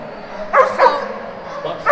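A dog barks repeatedly, close and loud, in short sharp yelps at a dock diving event at a national championship, with a brief pause between bursts.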